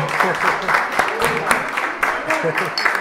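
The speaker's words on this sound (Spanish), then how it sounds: "Un aplauso." Audience at a live podcast episode recorded at a brewpub applauds and claps in scattered bursts, with a presenter's voice talking over the clapping.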